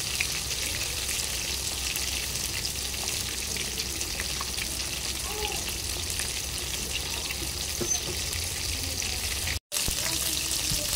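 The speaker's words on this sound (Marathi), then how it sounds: "आता मच्छी चांगली फ्राय करून झाली आहे" Dhoma fish fries in a pan with a steady, loud crackling sizzle that runs unbroken throughout, with a brief dropout near the end.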